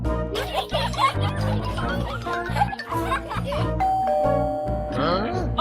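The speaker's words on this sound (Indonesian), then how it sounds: "Oh, bunyi bel." Two-tone doorbell chime rings out mid-scene, its sustained tones ringing over lively voices, chuckling and bright cartoon-style background music.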